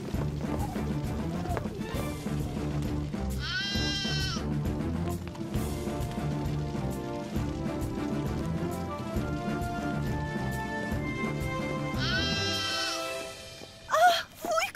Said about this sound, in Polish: To wełniaczek, mały baranek.